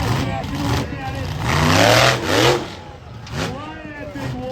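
Monster truck engine at a Monster X Tour arena show in Granite City, Illinois revs in loud, rising and falling surges, with a crowd and announcer voice mixed in underneath.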